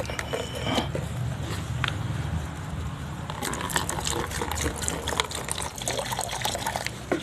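Water pours and gushes steadily into a cement mix for a fish or aquatic-animal pond, with wet sloshing and some clanking mechanical sounds, close and fairly loud throughout with no talking.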